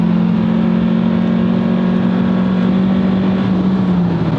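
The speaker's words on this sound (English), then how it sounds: "I just downshifted to 5th, 4th, let that VTEC kick in" A 2022 Honda Civic 2.0L with a Ktuner tune and Invidia Gemini R400 exhaust holds a loud, steady engine drone through a downshift as VTEC engages. The pitch sags slightly toward the end and there is no talk.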